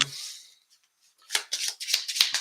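Cards from a Tomb Raider collectible card game being shuffled back into a deck, a quick run of crisp riffling bursts after a short pause, close and fairly quiet.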